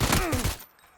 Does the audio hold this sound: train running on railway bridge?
no